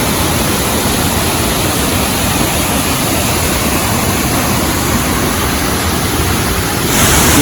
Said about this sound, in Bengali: জল দেখুন, অসম্ভব জোরে জল পড়ছে।